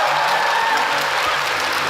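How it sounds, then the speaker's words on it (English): Audience applause fills a hall at the Final Fantasy XIV Fan Festival 2023 in London, a dense, steady wash of clapping from a large crowd that holds at the same loud level throughout. "Please, round of applause for Team Zodiac."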